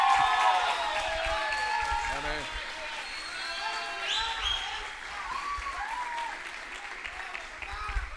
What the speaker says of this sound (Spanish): recibimos con un fuerte aplauso a Aarón